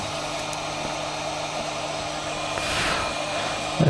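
A heat gun blows steadily on a TP-Link TD-W9970 VDSL router, a constant airy whine with hum that swells slightly near the end.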